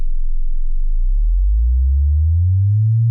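A Sequential Fourm synthesizer produces a very deep, loud, sustained bass tone that starts extremely low and slowly glides upward in pitch, smooth and pure, with no voices.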